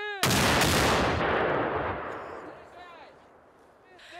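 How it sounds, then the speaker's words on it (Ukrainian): Ukrainian soldiers in Kharkiv region training with an SPG-9 anti-tank grenade launcher: one loud close discharge with a sharp crack and a long rolling decay, over faint background voices. "Українські військові вчаться користуватися протитанковими гранатометами СПГ-9, які Україні надали союзники."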